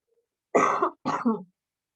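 Two close, loud coughs from a person, a harsh burst followed after a short gap by a double-pulsed second cough, then silence.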